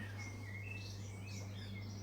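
A bird chirps outdoors with a few thin, faint tweets scattered over a steady low hum.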